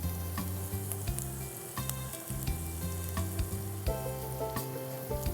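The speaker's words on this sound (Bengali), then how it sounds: "বেশি ঘি যাবে না, জাস্ট আমরা পেঁয়াজটা ভেজে নেব" Onions fry in a little ghee, a close, steady sizzle mixed with tonal background clatter and intermittent stirring knocks, no voices present.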